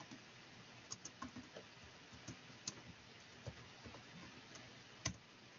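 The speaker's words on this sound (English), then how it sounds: "I'm typing" Quiet typing on a computer keyboard: sparse, irregular soft keystroke clicks with short pauses between them, close by in an otherwise hushed room.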